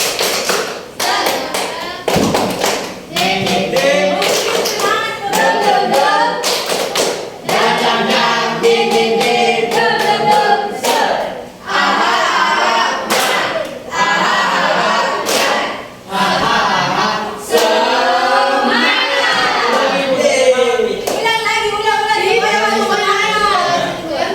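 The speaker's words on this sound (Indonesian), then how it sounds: "Tepuk semangat." A primary school class doing a rhythmic spirit clap, sharp hand claps in counted patterns alternating with children chanting and speaking together, loud and close in a classroom.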